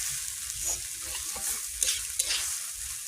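Food frying and being stirred in a pan as a fish-based Bengali meal is cooked, with a soft continuous sizzle broken by spatula scrapes and a couple of sharper knocks against the pan.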